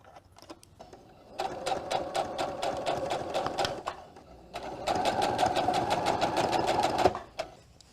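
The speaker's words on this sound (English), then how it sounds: "And then I can pull it up onto this little arm and kind of sew from there." Sewing machine stitching fabric with a 1/4 inch seam allowance, a loud, steady mechanical whir running in two long bursts with a pause between and brief starts and stops at either end.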